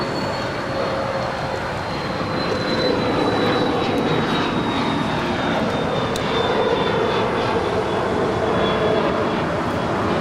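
An airliner takes off from runway 25 Right at Los Angeles International Airport, its engines a steady, loud, broad roar with a thin whine held across the whole stretch, and no talk.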